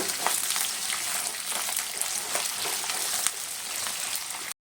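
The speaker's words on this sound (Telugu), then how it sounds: "కట్ చేసి పెట్టుకున్న పది పచ్చిమిర్చి ఒక చిన్న ఆనియన్ కరివేపాకు ఇవన్నీ వేసుకొని కొంచెం ఫ్రై చేసుకోవాలి ఫస్ట్" Green chillies, a small onion and curry leaves frying in hot oil give a steady, dense sizzle that stays close and even throughout, then cuts off abruptly at the end.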